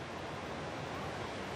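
One of Iceland's largest waterfalls roaring as a steady, dense wash of rushing water, loud and unbroken with no voices.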